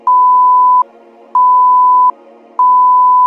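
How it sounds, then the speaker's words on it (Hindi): A prayer time indicator unit sounds its buzzer as a loud electronic tone in repeated pulses, each just under a second long with brief gaps between, alone and close. "अजान, जमात और मकरू वक्त के शुरू में एक बजर की आवाज़ आती है"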